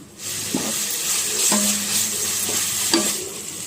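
Tomato and green chili fry in a pan after ginger and garlic, for restaurant-style ghee rice: a loud, steady sizzle broken by about four scraping spatula strokes.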